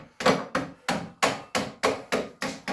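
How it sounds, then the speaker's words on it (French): A screwdriver is struck repeatedly to free a part while a car shock absorber is taken apart: eight sharp, evenly spaced metallic knocks, close and loud, with no talking. "Vous voyez bien, il tape avec un tournevis."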